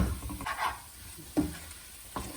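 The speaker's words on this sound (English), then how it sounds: "It has to be fried in medium flame for at least 7 to" Onions and masala frying in a pan over medium flame, heard as a soft sizzle under a few distinct stirring scrapes and knocks of a utensil against the pan, close and fairly quiet.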